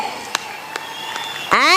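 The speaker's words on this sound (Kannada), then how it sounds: "ಒಂದು ದೊಡ್ಡ ಚಪ್ಪಾಳೆ ನಮ್ಮ ಎಲ್ಲ ಮ್ಯೂಸಿಷಿಯನ್ಸ್ಗೆ" An audience at a star-studded evening stage event applauds the musicians: a steady wash of crowd clapping with a few sharper claps standing out, then a loud, rising voiced cheer or whoop near the end.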